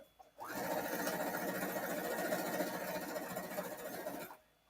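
A home sewing machine runs steadily for about four seconds as it stitches fabric scraps, its whirring drone close and even with no talking.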